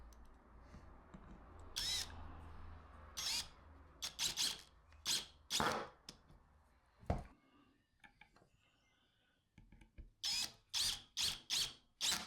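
Power drill driving screws into a wooden woodworking jig: a series of short, sharp whirring bursts separated by pauses, near and fairly quiet, with no talking.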